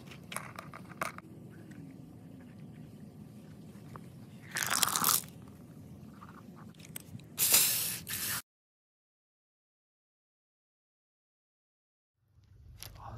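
Polished rocks from a Vevor rock tumbler barrel rattle and crunch as they are rinsed, with two loud bursts of spraying water over a low background, then a long silence and a quiet return at the end.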